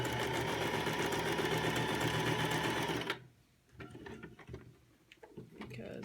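A sewing machine stitches a cloth face mask in a loud, steady mechanical whir for about three seconds, then stops abruptly, leaving faint rustling and quiet handling noises.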